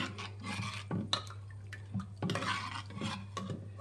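Moong dal in water is mixed in a metal pot, with soft sloshing and irregular clinks and scrapes of a spoon against the sides, fairly faint over a low steady hum and no speech.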